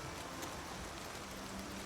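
Steady hiss of rain from the video game Oblivion Remastered, an even, continuous wash of falling rain with no other sounds, faint and unchanging.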